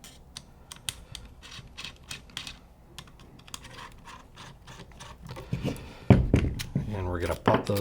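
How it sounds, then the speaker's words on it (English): Small screws being backed out of an ASA rifle stock kit, a run of sharp, close ticks and clicks from the driver and parts, with someone speaking over the later part. "We're just going to take the bottom 2 screws out of the original ASA."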